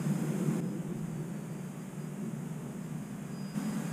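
A steady, faint electric motor whine from a scratch-built RC bush plane in flight, heard from a distance over a constant hiss of background noise.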